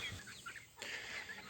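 Backyard hens in a pen being fenced with wire mesh cluck softly and intermittently at a distance, faint against a quiet outdoor background.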